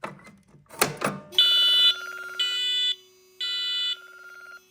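A few clunks and clicks come first, then a Radionics D8112 fire alarm panel demo board sounds its fire alarm in three loud, buzzy tone bursts with short gaps between them.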